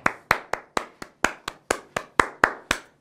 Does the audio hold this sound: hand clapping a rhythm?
yes